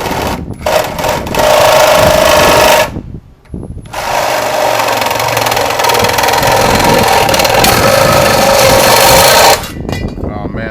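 A loud, close power tool cutting through metal and throwing shavings: a harsh, grinding whine that runs for several seconds, stops briefly, then runs steadily again before cutting off.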